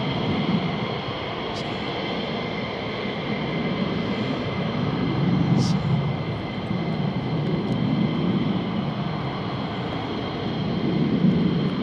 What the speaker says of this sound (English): RAF call it reheat. I think the Americans call it afterburner.